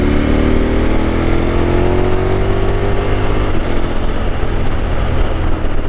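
A motorcycle engine drones loud and close from the rider's position, heard through earplugs while riding. The steady roar holds throughout, and its pitch glides slowly with the throttle.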